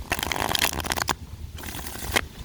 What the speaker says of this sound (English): I'm going to shuffle a little bit more here.